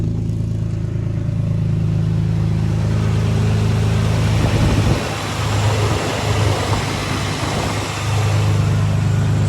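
An Infiniti G35 engine idles steadily after a serpentine belt repair, a close, continuous low hum with light clatter and a brief dip in level midway.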